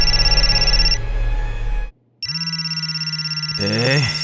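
A telephone rings with a repeated electronic tone, loud and near, in two bursts separated by a brief silence, and a person talks over the end.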